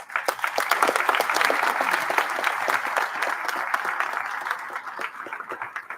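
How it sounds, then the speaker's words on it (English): Audience applause fills a ribbon-cutting ceremony at Meade High School: dense, steady hand clapping from a large crowd, loud and close, holding for several seconds before easing off slightly at the end. "you should really give yourself a hand clap."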